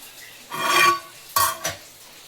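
A spoon stirs a pot of Kerala-style natholi (anchovy) fish curry at a rolling boil, giving two short scraping, clattering bursts against the pot with a quiet pause between, close and fairly loud.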